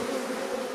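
A honeybee swarm being captured hums in a dense, steady buzz of many bees close by, with no voices.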